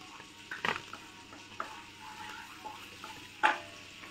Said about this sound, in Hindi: हमारा जो मक्खन है मेल्ट हो रहा है। अब इसी समय हम थोड़ा सा इसमें जीरा डाल देंगे।